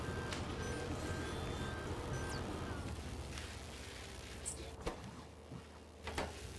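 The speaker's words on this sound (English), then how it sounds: "Whatever machine is beeping sounds like a dump truck backing up or something." In the modded Factorio game, a machine gives off faint, evenly spaced beeps like a reversing truck. The beeps sound distant in the background over a dense hum of machinery, then fade out partway through.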